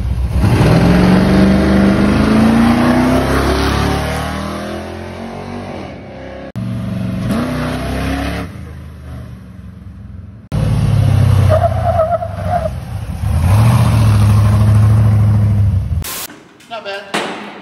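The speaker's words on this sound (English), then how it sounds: "I can't believe I'm in this truck right now." An aggressive Chevy Colorado prerunner truck roars and revs hard, engine note climbing as it accelerates with skidding tire noise, loud and close from inside the cab, the roar cutting out and returning in bursts, with people talking over it.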